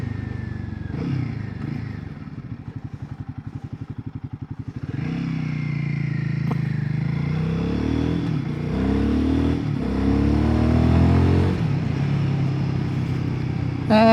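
A Royal Enfield Guerrilla 450 motorcycle engine idles with a rapid, even pulsing at first, then revs up loudly into a sustained, rising and falling roar close by, with no talking.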